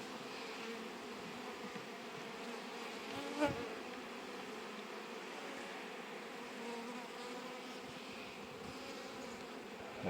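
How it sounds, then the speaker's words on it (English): Dense, steady buzzing of honey bees swarming around an open frame of honey lifted from a crowded spring hive, continuous and close throughout with a brief louder swell near the middle. "Now there's a lot of bees."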